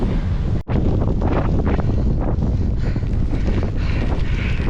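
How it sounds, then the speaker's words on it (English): Strong headwind buffets a microphone while someone cycles on a flat road, a loud continuous roaring gust noise that fills the sound with rumbling surges and one brief dropout, no talking. "it's like riding up a massive hill when you're going into a headwind"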